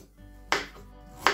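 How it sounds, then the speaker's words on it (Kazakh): Two sharp knife chops land on a cutting board, spaced about three-quarters of a second apart, as vegetables are cut into coarse chunks for zucchini caviar, with quiet background between strikes. "Ең алдымен осы жердегі тұрған барлық көкөністерді ірі-ірі етіп турап шығамыз."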